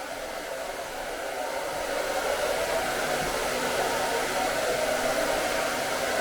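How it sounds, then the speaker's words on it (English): A hair dryer runs continuously in a cave and log cabin stay, a steady airy whoosh that swells slightly louder after the first couple of seconds and holds. "Jay's had access to a hair dryer for 2 seconds."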